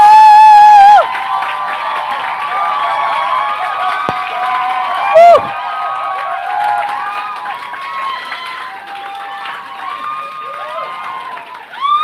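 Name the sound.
audience cheering and applauding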